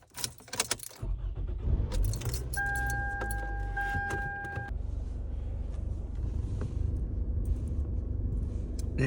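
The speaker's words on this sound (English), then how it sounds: "you're gonna need to start the car to put it in drive" A car is started after a radio swap: a few clicks and key rattles, then the engine catches and settles into a steady low idle rumble with a brief warning chime tone.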